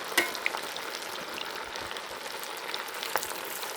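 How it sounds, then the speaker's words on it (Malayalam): Chicken pieces fry in hot oil in an iron kadai, a steady crackling sizzle with a few sharper pops and spatters, close and moderately loud, with no voices. "അപ്പോൾ നമുക്കിനി ചിക്കൻ പീസ് അതിലേക്ക് ഇടാം"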